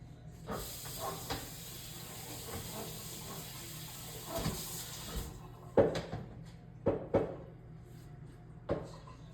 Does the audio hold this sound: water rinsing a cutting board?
yes